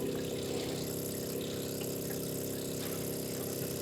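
Fuel pumps hum steadily on a Ferrari 308 engine under restoration, a continuous mechanical whir with a faint liquid-pump buzz, close and unbroken.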